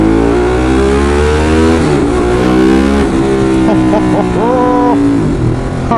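A Ducati 916 motorcycle engine revving loudly and close while riding, its pitch rising and falling through repeated climbs, with a voice talking over it.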